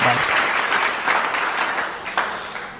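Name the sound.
audience applause at poetry gathering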